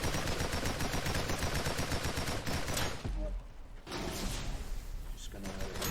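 Rapid gunfire in the video game AVIUM, dense, steady and loud for several seconds, then breaking off into sparser shots and mechanical clatter.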